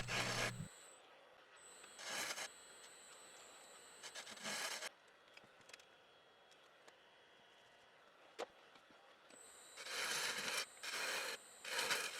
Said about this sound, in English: I turn tenons at both ends for holding with my chuck's spigot jaws.